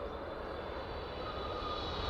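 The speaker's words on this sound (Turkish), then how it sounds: "Swiss Air'in Tokyo uçağı geliyor. Zaten uğultusundan belli olmuyor mu?" A distant Swiss airliner's steady engine roar as it approaches Zurich Airport, a broad continuous hum that holds level and grows slightly toward the end.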